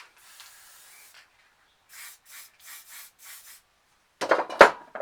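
A spray paint can hisses in a steady spray while colour is laid down for planet art, then gives several short even bursts, followed by louder rubbing and scraping handling noise.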